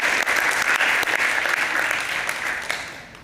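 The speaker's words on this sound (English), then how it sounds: "One more round of applause." Warm audience applause after a talk at a developer summit, many hands clapping in a dense, steady roar that gradually tapers off.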